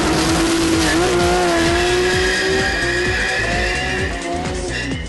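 Close and loud, a Porsche held at 6,000 to 7,000 rpm is let off the brake and launches, the engine wailing and climbing while the tires squeal steadily throughout.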